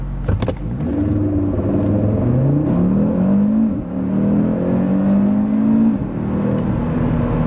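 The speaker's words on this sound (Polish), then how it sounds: "oferuje też takie przyspieszenie od 0 do setki, robione powiedzmy od niechcenia, bez żadnego launch control" A 2024 Cupra Formentor VZ5 2.5 TSI engine revs hard through several gears from 0 to 100 km/h without launch control, each pull rising in pitch before a brief drop at the shift, loud and close from inside.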